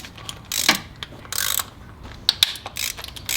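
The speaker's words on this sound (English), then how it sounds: "We just take off all the bolts." A ratchet zips off water pump bolts in three or four quick bursts of close, crisp pawl clicking, with short pauses between the bursts and no talk.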